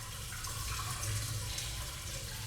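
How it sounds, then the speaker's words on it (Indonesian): The Sumuhun River flows inside a cave as a continuous broadband rush of water, close and steady, with no voices. "Suara aliran sungai Sumuhun di dalamnya menjadi terapi alam"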